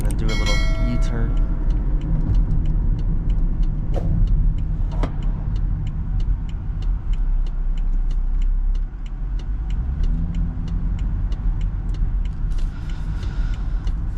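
Inside a 2011 BMW X3 turning left and making a U-turn, a steady low engine and road rumble runs throughout, with the rapid, regular ticking of the turn signal clicking over it.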